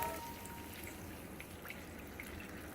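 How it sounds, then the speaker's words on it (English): Water pours into a pan of pork chop drippings, a soft continuous trickle and faint bubbling spread over a low steady wash, quiet and close, with no talking. "I'm gonna go ahead and pour about 2 cups of water on this."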